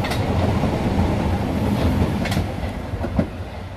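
A Berlin U-Bahn U6 train rumbles past nearby, wheels clattering over the rails in a steady, noisy roll that eases slightly toward the end.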